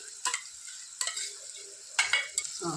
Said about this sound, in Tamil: இப்போ வந்து எல்லாத்தையும் மிக்ஸ் பண்ணி கொடுக்க போகிறோம்